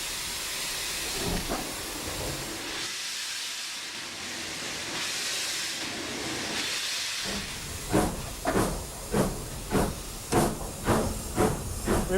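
A British steam locomotive lets out a loud, steady hiss of steam as its regulator is eased open, the broad rush swelling and fading before rhythmic chuffing puffs begin pulsing close by.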